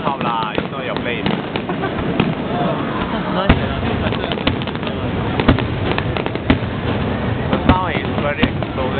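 Chinese New Year fireworks burst close by in Singapore, a dense run of loud cracks and booms that repeat irregularly over a constant crackling roar, while people talk and react underneath.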